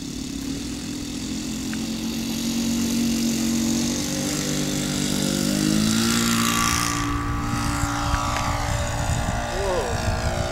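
A model Extra aerobatic airplane's engine drones and rises in pitch during its maiden flight takeoff, a steady buzzing whine that climbs and sweeps as the plane accelerates and departs, with people's voices faintly in the background.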